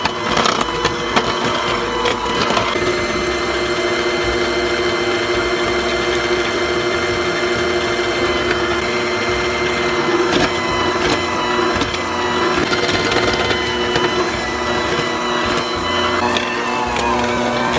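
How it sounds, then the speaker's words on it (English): An electric hand mixer on medium speed churns sweet potato biscuit dough in a bowl, a loud steady mechanical whir with rattling and knocking of the beaters, running continuously without talk. "So I have my hand mixer on medium speed and I'm going to incorporate this all together."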